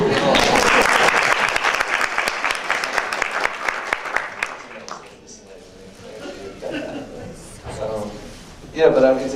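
Lecture-hall audience applauding after a film, dense clapping for several seconds that thins and fades, followed by someone talking to the crowd with a brief laugh or clap near the end.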